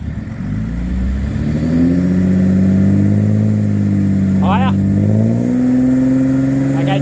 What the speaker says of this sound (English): And now for the ultimate sound test, while stationary of course. Okay, give it a rev.